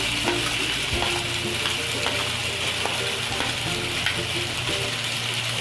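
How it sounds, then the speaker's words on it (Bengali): Continuous sizzling of green chillies, onion and tomato frying in a hot pan, broken by occasional utensil taps and stirring scrapes, close and loud. "কাঁচা লঙ্কা পেঁয়াজ একটু ভাজা ভাজা হয়ে গেলে"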